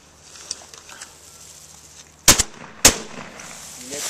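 A 16 gauge shotgun fires at a target outdoors, two sharp, loud blasts about half a second apart after a quiet stretch.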